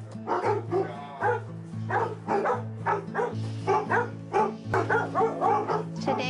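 Several dogs at an animal facility bark repeatedly in overlapping bursts, with yips and whimpers mixed in and a constant low hum underneath, fairly close and loud.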